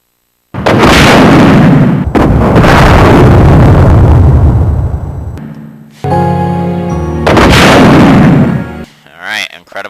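Rocket launcher blasts in Resident Evil Code: Veronica X: two loud, booming launches with long rumbling explosions, then a tonal game effect and one more heavy blast before quieter fading sounds.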